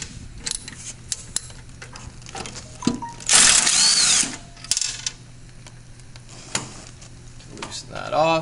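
A power tool with a nine-sixteenths socket loosens a nut on a lift carriage, giving one loud whirring burst of about a second amid scattered metallic clicks and ticks, with someone talking before and after.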